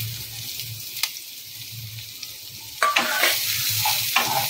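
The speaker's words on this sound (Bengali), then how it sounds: "লো ফ্লেমে পেঁয়াজটাকে ভাজা হবে।" Sliced onions fry in ghee on a low flame in a pan with fennel seeds for Kerala-style ghee rice, giving a soft, steady sizzle broken by a few clinks and stirring scrapes of a spoon.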